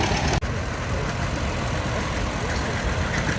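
Vintage tractor engines in a parade at a restored machinery show rumble and idle steadily nearby, a continuous low mechanical drone with no voices.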